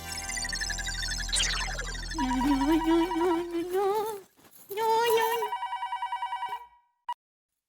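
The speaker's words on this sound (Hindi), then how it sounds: "किसको फोन कर रहे हैं? दया को, उसको बताना पड़ेगा ना कि कानपुर के आतंकवादी मुंबई में घुस चुके है" A telephone rings during a call in a scene from the Hindi sitcom Taarak Mehta Ka Ooltah Chashmah, playing a loud melodic ringtone in repeated bursts that ends abruptly, with voices partly overlapping.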